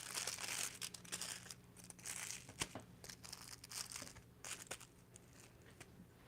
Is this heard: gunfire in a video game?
no